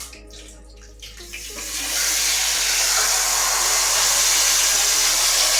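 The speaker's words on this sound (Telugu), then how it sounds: "ఆయిల్ వేసి వేడెక్కిన తర్వాత మనం మ్యారినేట్ చేసుకున్న చికెన్ని అందులో వేయాలి" Marinated chicken goes into hot oil. A quiet start gives way to a loud, dense, continuous sizzling hiss that swells after about two seconds and stays strong, close, with no voices.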